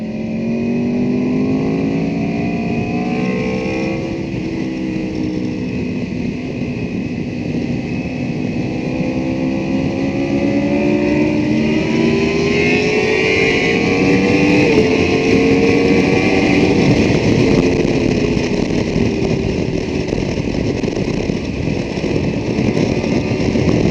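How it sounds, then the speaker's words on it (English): A superbike engine screams on a race track at a close, loud, sustained roar, the pitch climbing and falling as the rider works through gears with wind rush underneath. "I can already feel how torquey this bike is."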